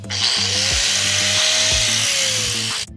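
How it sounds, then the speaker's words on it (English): A high-pitched whining Performax 9 amp corded 4-1/2 inch angle grinder runs continuously, grinding off residue, its motor pitch rising and dipping against the material, loud and close. "take a grinder, angle grinder, and just grind it off"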